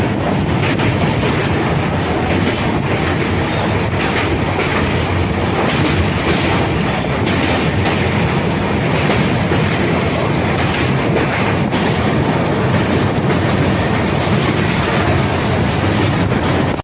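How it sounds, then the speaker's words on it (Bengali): A passenger train runs at speed just after leaving Sevoke station, heard from on board as a steady, loud rumble with continuous wheel clatter and no talking. "এই মুহূর্তে আমাদের ট্রেন ছাড়লো সেবক স্টেশন থেকে।"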